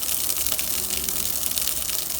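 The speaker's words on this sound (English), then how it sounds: "Water's spraying." A loud, steady hiss of water spraying at close range from a leaking hose on a farm fills the whole clip, with no pause and no voices.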